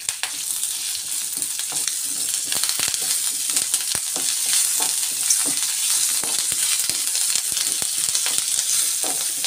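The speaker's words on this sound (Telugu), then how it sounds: "కరివేపాకు బాగా క్రిస్పీగా రావాలండి. అప్పటి వరకు మనం బాగా ఫ్రై చేసుకోవాలన్నమాట." Curry leaves frying in hot oil in a pan until crisp, giving a steady, close, loud sizzle with scattered crackles and pops throughout, heard alone without talk.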